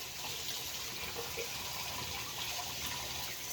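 Lukewarm tap water runs steadily into a sink for rinsing the face, a continuous close hiss and splash that stays even from start to finish with no voices.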